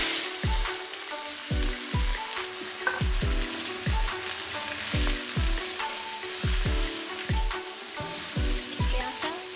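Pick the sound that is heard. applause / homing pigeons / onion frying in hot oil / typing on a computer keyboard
onion frying in hot oil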